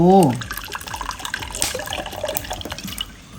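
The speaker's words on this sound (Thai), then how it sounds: "เดี๋ยวจะใส่น้ำส้มสายชู" Vinegar pours into a cup of freshly blended dipping sauce for chicken rice, a short liquid trickle and splash near the start followed by faint dripping and small kitchen clatter, with a voice talking over it.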